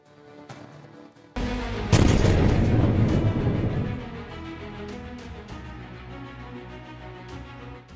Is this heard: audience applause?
no